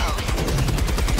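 Rapid automatic gunfire is aimed at a charger in Helldivers 2, with loud, close bursts of shots in a fast, continuous rhythm that fills the whole moment.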